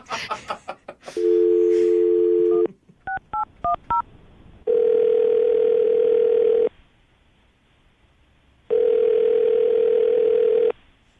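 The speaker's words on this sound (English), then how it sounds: "I'm going to dial it right now." Telephone dial tone interleaved with short touch-tone dialing beeps as a call is placed, starting after a burst of tones; two long steady tone segments stand out loud and clear, with no talk over them.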